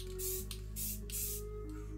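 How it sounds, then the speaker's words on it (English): A can of pink spray paint hisses onto a gaming keyboard in several short bursts, each a loud airy spray separated by brief pauses over a steady low background hum. "I'm gonna go ahead and spray this guy so we can see what the pink looks like"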